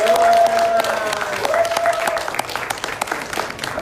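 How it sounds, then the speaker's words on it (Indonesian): An audience at a church retreat in Michigan claps for the Toronto group, a brief burst of dense applause that thins out over a few seconds. "Tepuk tangan buat rombongan Toronto."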